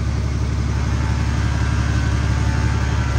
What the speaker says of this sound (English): It's slow, but you can hear the compressor.